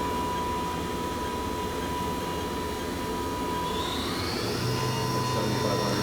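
The spindle of a Haas vertical machining center runs at 5,000 RPM and gives a steady, fairly quiet whine with a constant tonal hum over broadband machine noise, rising slightly in pitch toward the end.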